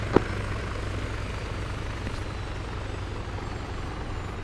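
Helicopter engines spooling down on the deck after a military special operations aviation training flight, a steady broadband turbine whine and rotor rumble holding close and fairly loud, with a brief sharp click near the start.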